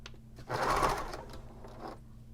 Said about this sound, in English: machine sew this right here